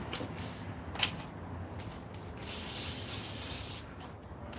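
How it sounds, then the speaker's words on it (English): Cooking spray hisses onto the top side of Salisbury steak in a pan, a single steady spray burst lasting over a second, close and moderately loud against quiet kitchen background. "I'm going to spray on the other top side too."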